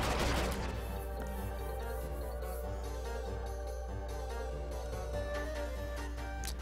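Explosion attacks in Kingdom Hearts 2: a sharp blast opens, then rapid bursts and crashing impacts follow over ongoing game music, moderately loud with no voices.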